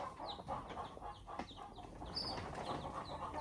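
Chickens cluck continuously outside a brooder of day-old chicks in Ghana, with short chirps and clucks overlapping at a steady moderate distance over a constant background hum.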